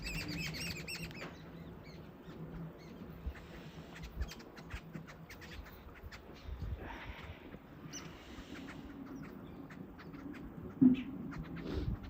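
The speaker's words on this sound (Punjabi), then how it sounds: "ਦੇਖੋ ਚਿੜੀਆਂ ਤੋਤੇ ਤੋਤਾ ਕਿੱਧਰ ਨੂੰ ਗਿਆ" Sparrows and parrots around a house chirp in brief, scattered bursts while wings flap now and then, moderately near against a soft, steady background.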